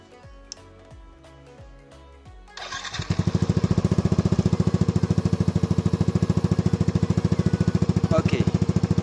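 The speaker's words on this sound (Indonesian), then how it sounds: "Kalian bisa dengar sendiri suara dari knalpot DOS ini di motor NMAX." A Yamaha NMAX scooter with an oval DOS long silencer exhaust is started after a few seconds of quiet ticking, then idles loudly and steadily with a dense, rapid pulsing exhaust note close by.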